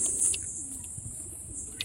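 Pigeons coo faintly and briefly in a quiet space, with a few soft low calls over a steady high hiss.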